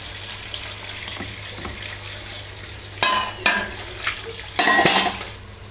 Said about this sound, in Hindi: मटर धो के रखते हैं, मटर धो लें